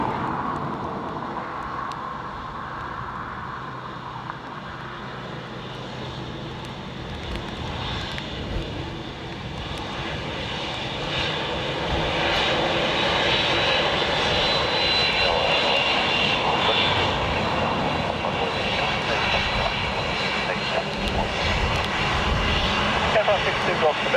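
A Netherlands Air Force C-130 landing at Dublin Airport drones steadily with a broad, continuous propeller-engine roar that builds slightly louder over time, with airport ambience and radio chatter underneath.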